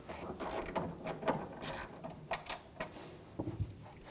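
A hand ratchet fitted with a 10mm socket turns out a bolt on a 2007–2013 BMW 328i, giving quick, quiet clicking strokes in short bursts with pauses between them, close up.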